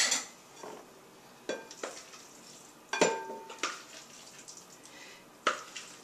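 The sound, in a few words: folding spinach mixture into tofu mix in bowl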